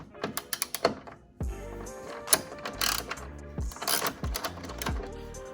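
Socket ratchet spinning bolts off a Honda Civic Type R FK8 during a hardware install, heard as close, quick bursts of rapid ratcheting clicks with sharp metallic knocks between them.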